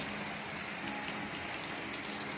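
Steady rain falls throughout, a dense even hiss with scattered drops pattering on a surface, no voices.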